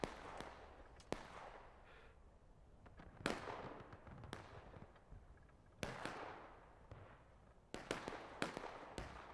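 Cannon artillery shots in the War of Rights video game, several sharp distant booms spaced a few seconds apart, each trailing into a rumbling echo, with faint background noise.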